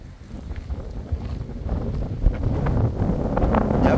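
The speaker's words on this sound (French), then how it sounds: "Il y a beaucoup de vent aujourd'hui." Strong wind buffeting the microphone in continuous roaring gusts, rising slightly toward the end, with no voices, at Les Faverges on the Via Francigena / GR145 walking route.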